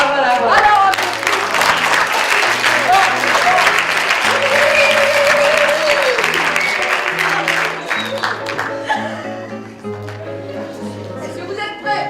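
Applause from an audience at a lively French show, sustained dense clapping filling the whole stretch while music with a steady pulsing bass plays underneath and a voice is heard now and then.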